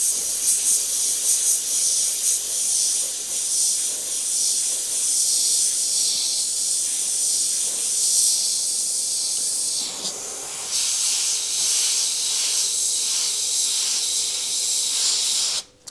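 Airbrush spraying paint for a torn-metal effect, a steady loud airy hiss that runs nearly unbroken, with a brief dip near the middle before resuming.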